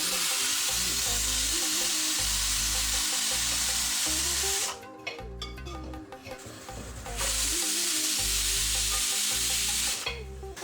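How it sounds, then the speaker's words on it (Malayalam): Vermicelli fries and sizzles in a pan for Onam payasam. A loud, continuous crackling hiss runs with stirring, drops away for a couple of seconds midway, then returns. "അപ്പോൾ നമ്മുടെ വെറുമിസലി ഏതാണ്ടൊന്ന് ഫ്രൈ ആയി വന്നിട്ടുണ്ട്"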